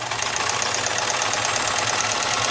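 A sewing machine stitches quilt binding onto a fabric mask made to cover an N95, giving a steady close motor whir with a fast, even stitching pulse and no voices.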